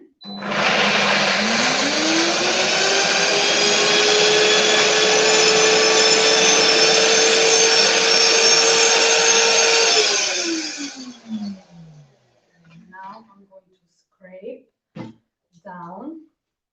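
Optimum G2.6 blender on pulse whirring loudly and steadily with pumpkin carrot pulp muffin mix for about ten seconds, its motor pitch rising then winding down, followed by brief speech afterward.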